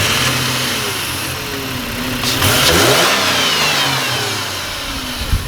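V6 engine of a Holden Commodore SV6 or Ford Falcon XR6 car cranking and catching, then a loud close rev swelling and falling back to a rumbling idle.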